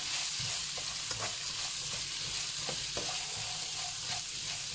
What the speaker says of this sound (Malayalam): ഈ സവാള നന്നായിട്ട് വരട്ടിയെടുക്കണം.